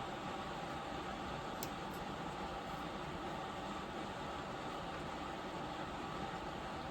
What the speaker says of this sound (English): the only thing you hear in the background is my little space heater